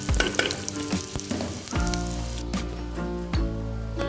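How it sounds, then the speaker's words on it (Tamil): Cumin seeds frying in hot oil for a Tamil thuthuvalai rasam, a loud, close crackling sizzle with sharp pops and spatters scattered throughout, over a few low clanks of a pan or utensil. "ஸோ சீரகம் ஆட் பண்ணி அந்த எண்ணெயில் ஃப்ரை ஆச்சுன்னா கொஞ்சம் மணமாக இருக்கும்."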